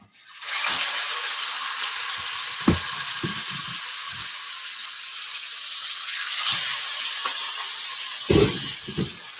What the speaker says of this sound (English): This is right near the mic, so you definitely heard that sizzle.